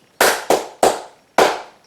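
Four loud, crisp flamenco palmas for fandango, clapped by hand in a short 1 and 2, 3 pattern, with two quick claps followed by a pause and a final clap, nothing else heard.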